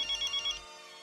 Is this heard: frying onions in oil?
no